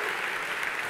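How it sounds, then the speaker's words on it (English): An audience claps at a conference keynote, dense and close for under a second. "Let's hear some applause."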